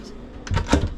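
A storage drawer beneath the bed steps in a camper slides open, giving two quick, close clattering knocks about half a second apart in a quiet room.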